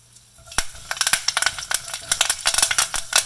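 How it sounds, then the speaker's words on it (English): Mustard seeds splutter in a tablespoon of hot cooking oil with curry leaves, a loud, dense burst of crackling pops that starts after a brief quiet moment and keeps going rapidly and close up. "As you can hear, the mustard seeds are spluttering."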